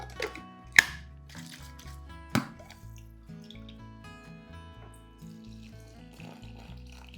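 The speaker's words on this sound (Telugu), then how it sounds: "ఇది వేస్ట్ చేయకుండా కొంచెం వాటర్ వేసేస్తే మొత్తం వచ్చేస్తుంది." Water poured into a bowl holding green chilli paste for masala wheat dosa batter, a soft trickling and splashing in the foreground with a couple of sharp knocks, set against quiet background music.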